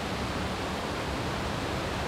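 A rainforest waterfall at Boulangerie Cascades roars as a steady, broad wash of falling water, close and loud, with no voices over it.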